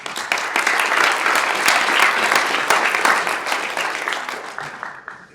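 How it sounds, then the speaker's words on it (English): A room of people at a startup pitch event applauds the presenters, a dense, lively burst of clapping with sharp individual claps standing out, slowly tapering off near the end. "Give them a round of applause."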